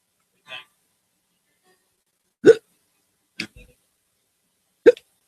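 A person hiccups several times, short sharp bursts spaced irregularly with silence between, close and fairly loud, with no talking.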